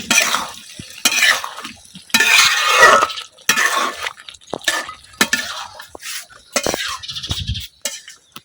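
Beef cooks with vegetable stems in a pot, stirred in repeated scraping strokes with clinks of the utensil against the metal and a soft sizzle underneath, coming in uneven bursts with short pauses between.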